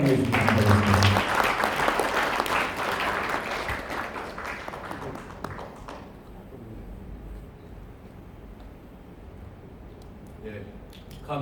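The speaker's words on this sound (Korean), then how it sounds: "여러분 큰 박수로 환영해 주시기 바랍니다." Loud audience applause welcoming a guest speaker at an anniversary ceremony for a children's welfare association, dense clapping that peaks early, fades out around the middle, then leaves a quiet room with faint stirring.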